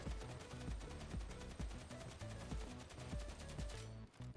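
Infantry autogun fires on full auto in Warhammer 40,000 Darktide, a fast rhythmic burst of closely spaced gunshots rattling steadily for about four seconds before cutting off.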